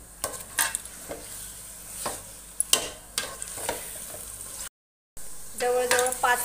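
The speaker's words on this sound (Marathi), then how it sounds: "गॅस थोडा मोठाच ठेवला आहे आता आणि हे छान प्रकारे तेलामध्ये फ्राय करून घ्यायचे आहे." Chicken biryani masala frying in oil on a high gas flame, with a soft sizzle under repeated sharp scrapes of a spoon stirring against the pan, close up, followed by a brief gap and a louder burst of frying.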